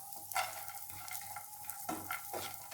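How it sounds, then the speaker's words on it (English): Almonds, raisins and pistachios roasting in a pan for gujiya filling, a steady soft sizzle with a few stirring scrapes and light clinks recurring close by, no voices. "roast the dry fruit, almond, kismis, pista"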